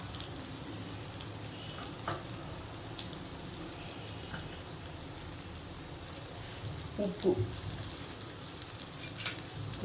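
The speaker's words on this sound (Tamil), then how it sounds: "நல்லா வதக்கிக்கிறோம்" Bitter gourd sautés in a pan with coriander powder and salt, giving a low, steady sizzle with a few faint clinks and stirring scrapes near the end. No one speaks.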